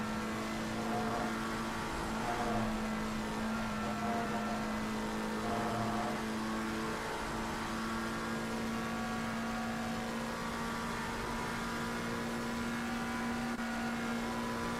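McLaren race cars in a sim racing game at Spa, engines droning steadily with a sustained tonal hum that rises and falls as the cars battle, no voices.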